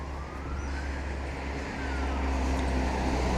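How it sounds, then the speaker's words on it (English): An ambulance siren wails faintly in the distance with a slow rising sweep, set against a steady low traffic rumble in a city street near a university hospital. "Ambulance."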